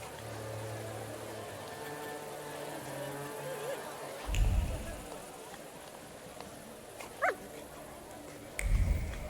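Donut, the Countess's dog in The Thaumaturge game, gives a few short low barks and thumps at intervals over a quiet ambient bed with faint background voice.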